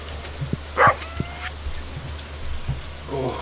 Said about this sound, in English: Oh, Senpai, please don't bark.